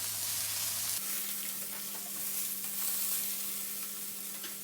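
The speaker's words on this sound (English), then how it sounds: "going to turn the fish over and let the residual heat of the pan cook the fish fully" Fish fillets (flat fish) fry in a hot pan, giving a steady, broadband sizzle that holds evenly throughout with faint crackles, close and fairly quiet, with no voices.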